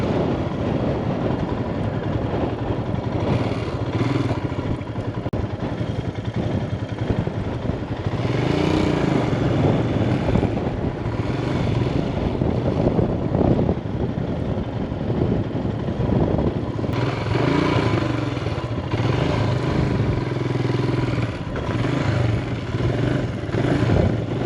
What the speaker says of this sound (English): First I need to turn my bike.